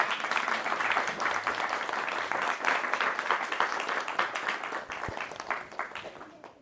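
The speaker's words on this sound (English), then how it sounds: "Let's get a round of applause for Urmila." A crowd at a spiritual talk applauds steadily with dense, continuous clapping that holds for several seconds before thinning out toward the end.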